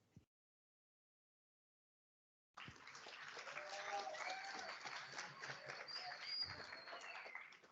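After a short silence, a conference audience at a talk on team management breaks into applause, a loud, steady burst of many hands clapping that continues to the end.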